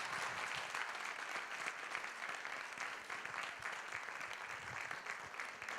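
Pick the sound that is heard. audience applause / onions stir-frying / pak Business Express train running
audience applause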